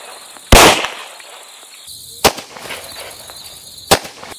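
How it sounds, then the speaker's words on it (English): Three sharp Glock pistol shots fired at a target on a range, loud close cracks spaced well apart, with quiet background between them. "I'm going to get a real aggressive grip on this Glock, and I'm going to be shooting at the A zone."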